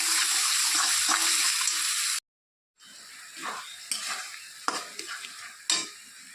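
Spices for a chicken curry sizzle loudly in hot oil while being stirred, a dense crackling hiss with scraping strokes. It cuts out briefly, then resumes more unevenly with sharper stirring scrapes.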